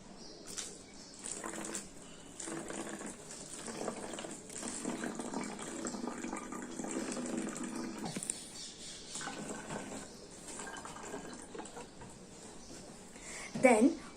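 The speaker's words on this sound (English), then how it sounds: "First, we will take a plastic bottle and pour some amount of vinegar inside it." Vinegar is poured into a plastic bottle for a baking soda and balloon experiment, giving a soft, steady liquid gush over several seconds, with a voice speaking over parts of it.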